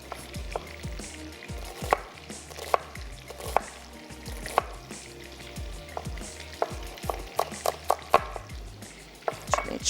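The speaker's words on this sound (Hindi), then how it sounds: "थोड़ा सा इसको रफली चॉप करेंगे और बटर में हमने इसको थोड़ा सा सौते कर" Roughly chopped onion sizzling in butter in a pan, with a steady frying hiss broken by frequent sharp clicks and knocks of a utensil stirring and tapping, close and fairly loud, no voices.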